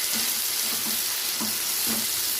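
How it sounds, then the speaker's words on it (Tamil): Chopped tomatoes sauté in a pan, giving a soft, steady sizzle broken by a few light stirring scrapes. No one talks over it. "ஸோ தக்காளியும் நல்லா வதக்கிக்கலாம்"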